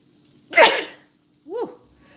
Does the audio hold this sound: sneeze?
yes